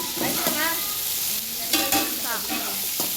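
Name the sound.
onion, cinnamon and cloves frying in hot oil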